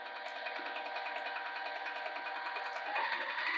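Sewing machine quilting lines down a bag panel, a steady rapid stitching whirr running continuously at even speed, slightly louder toward the end.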